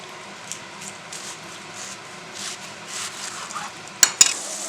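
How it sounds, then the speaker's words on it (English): Red onion slices cook in a cast iron skillet, giving a soft steady sizzle with light stirring scrapes, then two sharp metallic clinks of utensil on pan near the end; no talking. "Slice an onion in a round circle, put them in the same cast iron skillet, and just cook them for about 5 minutes until they get nice and brown and soft."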